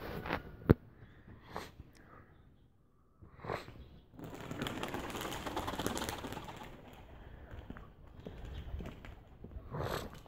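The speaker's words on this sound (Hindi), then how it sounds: "ये हैं जी आगे हमारे नीचे कबूतर।" Pigeons in a village coo faintly under a cool, windy, overcast sky, mixed with steady gusts of wind noise and a few scattered clicks and knocks.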